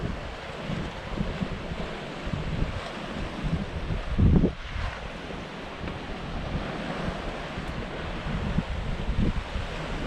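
Strong wind gusts roar across a choppy seaside beach at Santa Ponsa, Mallorca, with surf washing in underneath; a steady, close rumble of wind buffeting the microphone, swelling briefly near the middle, with no talking.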